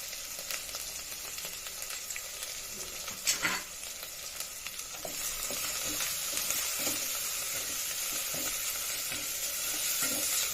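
Everest mutton masala fries in oil while being stirred, with a continuous sizzle and scraping strokes that grow slightly louder over the ten seconds.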